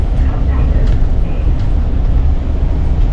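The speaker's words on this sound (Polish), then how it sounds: "Jedziemy autobusem po cmentarzu." A bus drives through Ohlsdorf cemetery in Hamburg, heard from on board as a continuous loud, low engine rumble with road noise.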